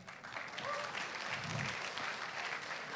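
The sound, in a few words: audience applause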